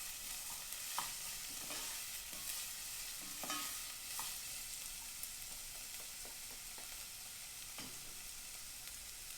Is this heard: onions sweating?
yes